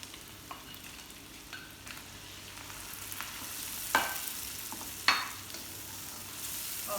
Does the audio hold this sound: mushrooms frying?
yes